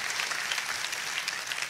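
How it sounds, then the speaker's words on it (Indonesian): A church congregation claps together in warm, lively applause, a dense steady patter of many hands at moderate distance, with no voices rising above it. "kita kasih tepuk tangan yang paling meriah"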